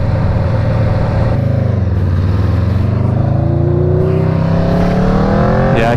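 An Aprilia RSV4 sport motorcycle pulls hard in first gear on a straight, its engine note loud and close, rising steadily in pitch as revs climb, with no talking over it.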